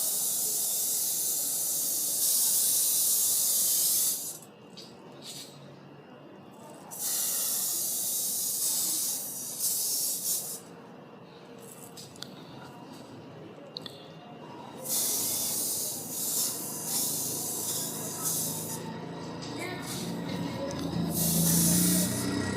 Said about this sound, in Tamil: இப்போ நம்ம ஸ்ப்ரே பண்ணி பார்க்கலாம்.